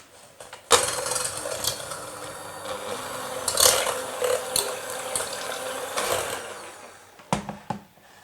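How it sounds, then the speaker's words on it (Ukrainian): An electric hand mixer beats four eggs with 120 g of sugar for a poppy seed cake, giving a close, uneven whirring drone with clattering knocks against the bowl that stops and starts. "додаю до них 120 г цукру і все ретельно змішую за допомогою міксера"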